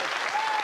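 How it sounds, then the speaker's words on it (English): Studio audience on a TV game show breaking into a brief burst of dense, steady applause. "Big round of applause."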